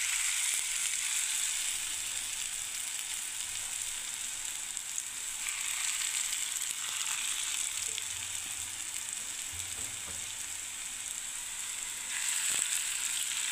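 Small masoor dal bori frying in hot oil in a pan, giving a continuous close sizzle with faint crackles and occasional stirring, no talking.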